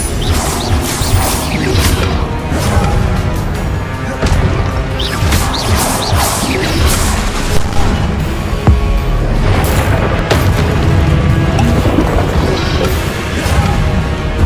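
Confringo spell explosions in Hogwarts Legacy combat: repeated loud blasts, crashes and whooshes in a dense, continuous barrage of battle effects.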